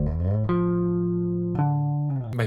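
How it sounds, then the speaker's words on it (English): Bass guitar plays a famous bass line of three sustained notes and a slide, each note ringing out full and clean with a short pitch glide between them, alone and without talk. "It's just 3 notes and a slide, and it's one of the most recognizable bass lines in history."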